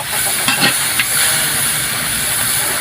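Native onions fry in a pan while chicken cooks, a steady loud hiss and sizzle with a couple of faint stirring knocks.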